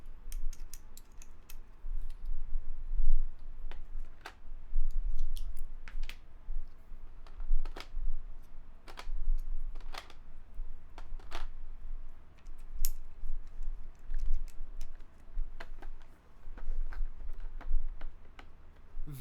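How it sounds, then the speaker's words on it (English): Plastic keycaps are pried out of plastic trays for a keyboard build, making a continuous scatter of small close clicks and ticks with irregular timing. "Very difficult to take the keycaps out of these trays."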